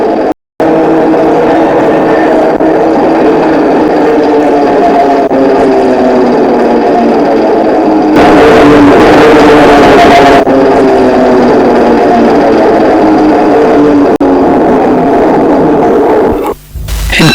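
The Hill of Howth tram runs at full throttle along a straight reserved section of line, giving a loud steady motor drone and rolling rumble that builds briefly to a harsher roar midway.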